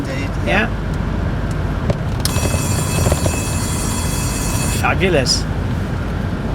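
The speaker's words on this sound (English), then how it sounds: "Now you got the Winkworth bell on this, haven't you? The alarm and everything." A Winkworth alarm bell on a classic Triumph TR4 police car rings in a continuous, bright metallic peal for a few seconds, between stretches of people talking.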